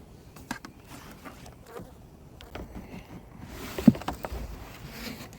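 Honey bees buzzing steadily around the parent colony hive during a spring split, a dense close-range hum with a few louder passes near the recorder and no speech.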